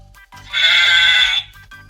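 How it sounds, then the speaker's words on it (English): A single loud sheep bleat from a storybook farm animal sound effect, lasting about a second, bracketed by soft rhythmic low thumps of background music. "Can you baa like a sheep?"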